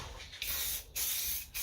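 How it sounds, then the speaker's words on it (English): Metallic gold spray paint hisses from an aerosol can in three close bursts of steady spray, broken by short pauses, with no talking. "Let's get to spraying."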